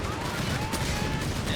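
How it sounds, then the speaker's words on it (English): Explosive grenade launcher fire from Panzer Pioneers in a Company of Heroes 3 battle, a dense continuous rumble of blasts and gunfire layered over game battle noise, with a commentator talking. "Panzer Pioneer keeping up the advance here, blasting everything they can with their grenade launchers."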